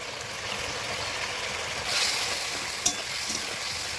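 Potatoes are stir-fried in a pan with a ground paste of ginger, cumin and dried red chili, giving a steady close sizzle with a louder hissing swell and a single sharp scrape, no voices.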